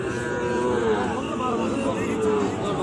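Cattle low repeatedly at the Raniganj cattle market, where Sahiwal bulls and calves are for sale, in long, loud, drawn-out moos with a busy market murmur behind them.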